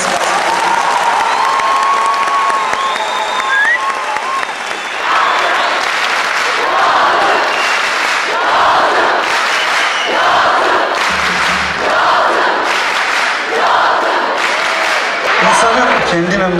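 A documentary audience applauds loudly and continuously, with scattered cheers and whistles and a voice calling out over the clapping.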